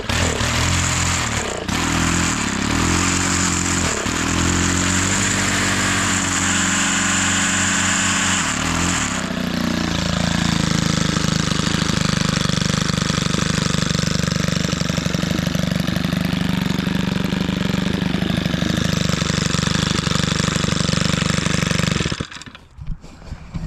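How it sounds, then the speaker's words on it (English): A STIHL FS 111RX string trimmer with auto choke idles outdoors in winter snow, its small engine running steadily and loudly close by, the pitch shifting and settling as the choke comes off, then cutting off abruptly at the end. "That is just the engine running."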